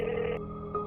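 A telephone rings while calling a delivery person: a narrow, phone-line ringing tone plays briefly and steadily, close and alone, without any voices.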